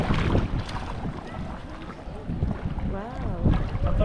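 A motorboat engine drones steadily on a lagoon in Palawan, Philippines, under heavy wind rumble against the microphone, with a brief voice rising over it near the end.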